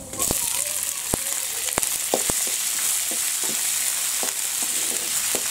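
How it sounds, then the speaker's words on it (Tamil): Green chilies and curry leaves fry in hot oil with mustard seeds and chana dal, giving a steady close sizzle broken by sharp pops and crackles, with occasional stirring. "பச்சை மிளகாய் நல்லா பொரிஞ்சிருச்சு"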